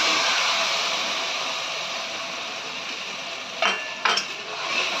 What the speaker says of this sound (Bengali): এবার যে গুঁড়ো মশলাটা আমরা গুলিয়ে নিয়েছি সেটা আমরা দিয়ে দিচ্ছি।